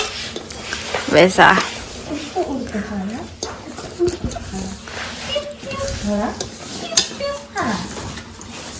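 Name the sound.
mixing coconut into dough for traditional Eti biscuits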